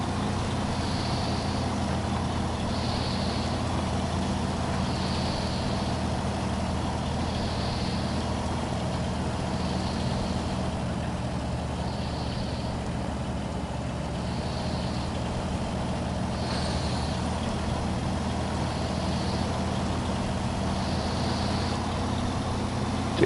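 A truck engine in the SnowRunner game labors up a 12-degree hill, a constant low drone with faint rhythmic high pulses repeating across the whole span.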